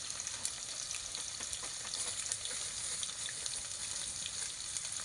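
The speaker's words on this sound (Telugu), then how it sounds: "అంటే మనకు తాలింపు గింజలు అయితే వేసానండి." Mustard seeds and tempering seeds crackle in hot oil over an outdoor fire in a corn field, a dense, even sizzle with sharp little pops throughout, close and unaccompanied by speech.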